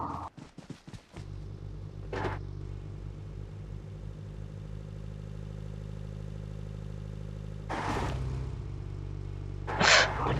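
A vehicle engine in the mobile battle royale game PUBG Mobile hums steadily at mid volume, with brief bursts of louder sound near the start and again toward the end.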